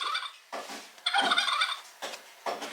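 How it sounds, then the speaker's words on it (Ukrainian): A turkey gobble from a children's sound book plays in short repeated bursts, four or five bright warbling calls separated by brief silences, clear and close. "Індик, кулдик, кулдик"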